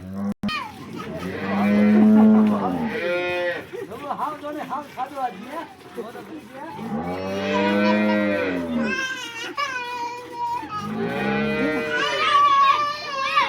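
Freshly calved cows in Banaskantha farmland give long, loud, close moos, three drawn-out calls in turn, with children's voices and chatter faintly around them.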